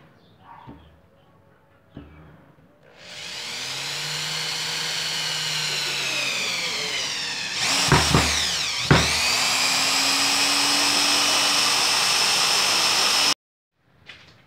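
A Bosch GSR 7-14 E drill driver drives a thick screw, its motor whining up steadily for about ten seconds with brief dips and bursts under load, then stopping abruptly; a couple of short knocks come before it starts.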